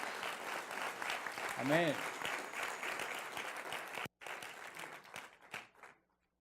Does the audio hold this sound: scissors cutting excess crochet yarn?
no